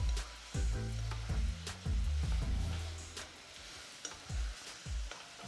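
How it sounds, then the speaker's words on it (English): Shrimp cooking in a pecan liqueur glaze in a pan, bursts of sizzling with low rumbling bubbles and intermittent spatula scrapes and taps, close and moderately loud. "We want to, at this point, cook the glaze"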